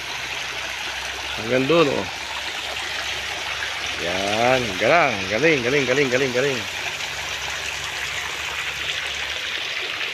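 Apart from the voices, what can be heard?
water flowing in a resort water feature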